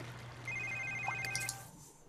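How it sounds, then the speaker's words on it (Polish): Telephone in The Sims 3 gives a short electronic ringing trill, clear and mid-level, over a low steady background hum. "No i jeszcze telefon dzwoni"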